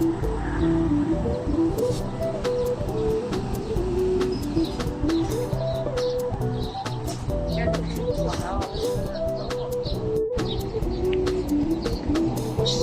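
Birds chirp and coo outdoors in a morning garden among trees and flowers, with a steady background hum and scattered faint calls.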